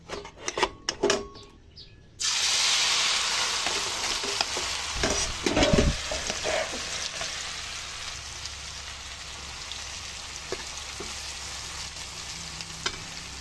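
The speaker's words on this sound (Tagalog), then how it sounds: "So mainit ng ating mantika, ilagay na natin ang ating chili." Chili dropped into hot cooking oil for a chili garlic oil, with a sharp burst of sizzling that settles into a steady, loud frying hiss lasting throughout, close up with occasional stirring clinks and no talk.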